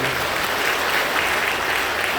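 Church congregation at a Korean Full Gospel service applauds to welcome a newly arrived family member, steady dense clapping filling the room throughout with no clear voices above it.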